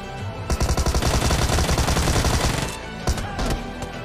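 UMP submachine gun firing in a video game, a rapid, evenly spaced burst of loud close shots for about two seconds, then a few scattered single shots.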